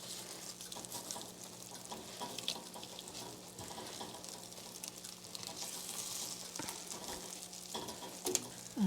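Eggplant slices frying steadily in a pan for a vegan fried eggplant sandwich, a continuous close sizzle with occasional stirring and scraping of the slices, no voices.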